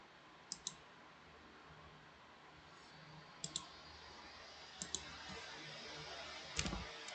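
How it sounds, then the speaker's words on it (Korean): Delete key pressed on a computer keyboard during Windows 10 video editing: faint, sharp clicks, mostly in quick pairs, spaced across a quiet room. "이렇게 딜리트 키를 누르면 됩니다."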